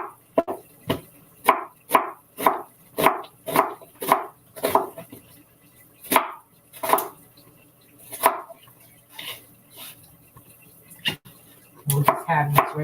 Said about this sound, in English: just chop these onions up